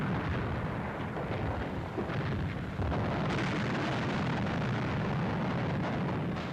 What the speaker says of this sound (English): German batteries opened fire the moment the French hove into sight